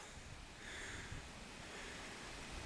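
A waterfall in the Yorkshire Dales, Wensleydale, pours with a steady, dense rushing roar that holds evenly throughout, with no voices.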